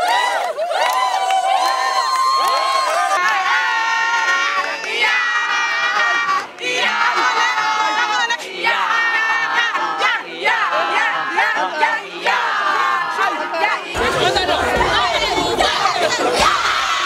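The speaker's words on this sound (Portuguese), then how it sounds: "Todos os bons guerreiros, não faltou o grito de bravura" A large crowd of students at the opening of national school games in Uíge chants and shouts a loud, continuous battle cry, voices layered and rhythmic near and far, ending in a burst of cheering.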